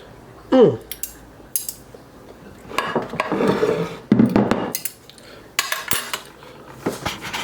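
A metal spoon scrapes and clinks against a dish, ladling meat sauce over potatoes in irregular bursts, with brief wet scooping sounds between the close, sharp clatters and a voice briefly heard.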